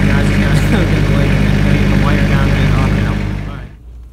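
A bulldozer engine runs steadily with a loud, low, droning rumble, then fades and cuts off near the end.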